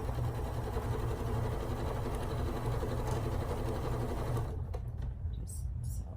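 A sewing machine runs steadily up close, stitching a strip onto a quilt with a fast, even mechanical whir. It stops near the end, leaving a few light clicks and handling sounds.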